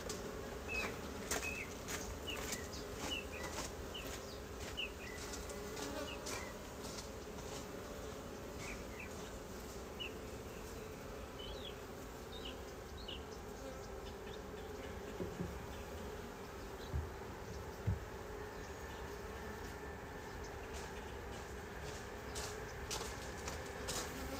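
Honey bees buzzing around an opened hive during an inspection, a steady low drone with faint scattered clicks and taps, quiet and without speech.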